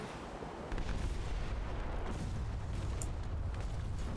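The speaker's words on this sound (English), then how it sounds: "Cannons, fire at will." Airship cannons fire during a pirate-raider fight in the game Airship: Kingdoms Adrift, a continuous dense roar of booming shots and rumbling blasts layered into one loud barrage.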